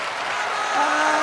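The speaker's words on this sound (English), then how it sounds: "let's hear the applause" A brief, steady wash of audience applause after a song from a stage musical, heard at an even, moderate level.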